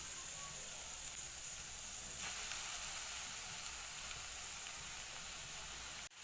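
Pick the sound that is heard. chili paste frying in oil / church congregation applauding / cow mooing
chili paste frying in oil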